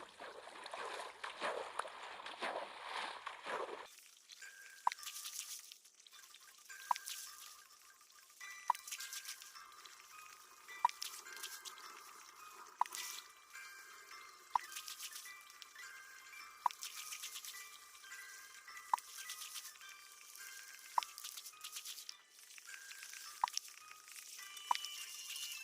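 Water trickling and dripping in Minecraft where water seeps into a mined area: a soft steady flow with sharp, evenly spaced drip clicks roughly every two seconds, faint and close, after a brief burst of louder noise at the start.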